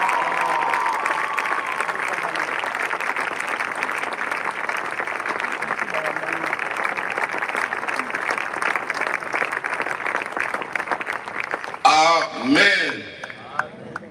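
A church congregation applauds steadily for the unity and love of the Democratic Republic of the Congo, a dense, continuous wash of clapping with some crowd noise, ending in a brief burst of louder, warbling voices.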